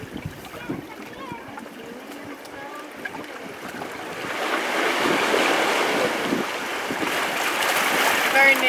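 Surf washes in at a public beach in Cape Town where penguins gather, a rushing swell of waves that builds louder, with wind buffeting the microphone and a person talking over it.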